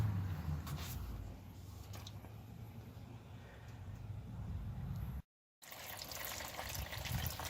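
Transmission fluid drains from a 1995 GMC Safari into the pan as a faint, steady trickle and hiss, briefly cutting to silence before resuming.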